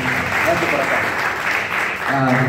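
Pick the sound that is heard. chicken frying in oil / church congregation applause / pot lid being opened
church congregation applause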